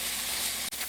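Plant-based ground with tomato paste, honey and citrus juice sizzles steadily in a skillet, a close, even hiss with one brief break near the end.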